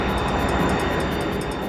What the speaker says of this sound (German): Das Frachtflugzeug vom Typ 707 soll in 7 Stunden von Luxemburg nach Kano, Nigeria fliegen.